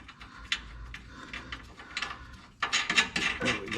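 A nut is threaded by hand onto a bolt while fitting a skid plate to a 2015 Toyota Land Cruiser 200, giving small close metallic ratcheting clicks and rubs, ending in a louder burst of scraping.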